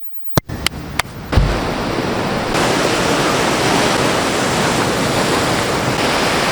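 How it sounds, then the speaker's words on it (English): Steady roar of ocean surf breaking at a foggy California foil-surfing spot, a broad continuous wash after a few sharp knocks at the start, loud and close with no voices. "Waves are great, super fun, super foggy."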